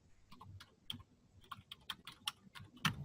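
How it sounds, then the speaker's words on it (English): Computer keyboard keys tapped one at a time as a search word is typed, a dozen or so crisp, faint clicks in an uneven rhythm against a quiet room. "So you can type in a word like"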